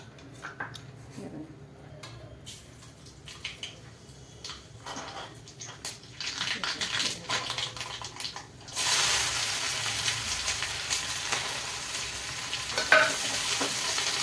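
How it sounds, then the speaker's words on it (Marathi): Onion frying with cumin and mustard seeds in a wok for a Maharashtrian fodnicha zunka, with stirring at first and then a loud, steady sizzle that swells sharply partway through, no talking. "कढईत कांदा घालायचा, जिरं मोहरी घालायची"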